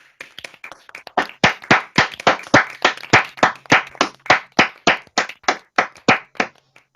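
Graduates of a modern languages class of 2021 clap for each other online, a rapid run of sharp, fairly loud handclaps that settles into a steady, evenly spaced rhythm, with no voices.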